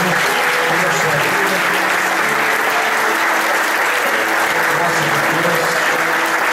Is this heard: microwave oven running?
no